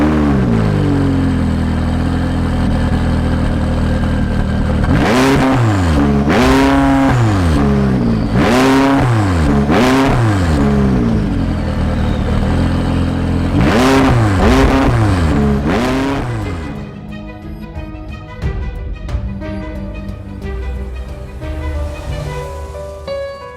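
A McLaren 540C supercar engine revs hard in a series of loud rising and falling blips, with distinct surges at regular intervals before the engine settles into a lower, rougher idle.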